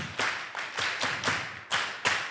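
Rhythmic group hand clapping at an anti-drug youth event, about seven evenly spaced, fairly soft claps in a steady beat with no talk.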